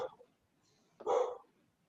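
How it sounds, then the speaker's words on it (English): Freya, a pet dog, gives a short bark, then a single louder, fuller bark a moment later, both fairly close against an otherwise quiet room. "that is my dog, Freya, barking, if you can hear her"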